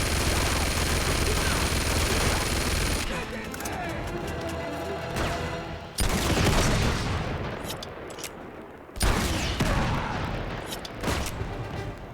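Gunfire in an Uncharted 2: Among Thieves firefight, loud sustained bursts of automatic shots and booming impacts broken by sharp cuts at a few points, a heavy barrage with game sound around it.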